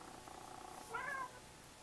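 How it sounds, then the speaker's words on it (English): A pet cat gives a single short, faint meow indoors, heard alone against quiet room noise. "Oh, and I have a kitty."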